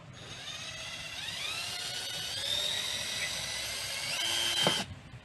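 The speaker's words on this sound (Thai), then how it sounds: "สว่านเจาะตามที่รูเรามาร์กไว้นะครับ มันจะเฉียงนิดนึงนะฮะเจาะไปเลย" A high-pitched power drill whines steadily for about five seconds boring an angled hole into a pipe, its pitch rising slightly as it bites in, then cuts off abruptly.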